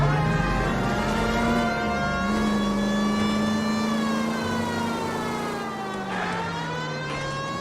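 A police car siren from the video game L.A. Noire wails loud and continuously in a slow rising and falling tone, with an engine rumbling underneath.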